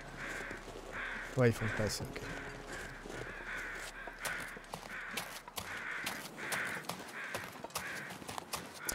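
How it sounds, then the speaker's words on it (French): Crow calls repeat across the scene in the survival game The Long Dark, harsh caws arriving at a steady rhythm against wind-like ambience while someone speaks over them. "Un corbeau."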